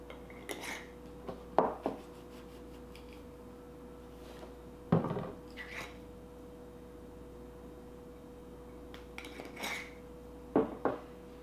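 Seasoned food is tossed in a bowl during plant-based meal prep. Several short clattering bursts of utensils scraping and knocking against the bowl come in separate clusters, with quiet gaps and a faint hum between them.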